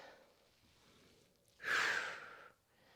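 A single forceful breathy exhale during a push-up workout, close and lasting about a second, set between quieter breaths.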